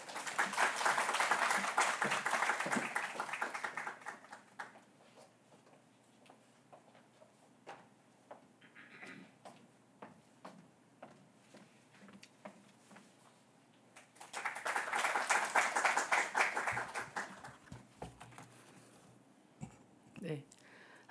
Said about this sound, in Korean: 이 시간에 박수로 환영하겠습니다